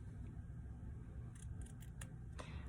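Scissors snip the tops of a craft bow on a Dollar Tree sequins container project, a few quiet, brief cuts over a steady low background hum.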